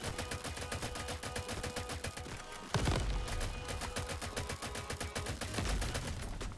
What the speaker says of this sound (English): My turrets are still firing.